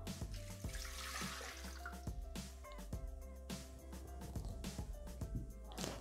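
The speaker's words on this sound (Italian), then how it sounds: "Iniziamo la ricetta mettendo all'interno del boccale l'acqua." Tap water running into the mixing bowl of a Thermomix (Bimby) kitchen appliance at the start of a pizza dough recipe, a steady close splashing pour with clinks and knocks around it.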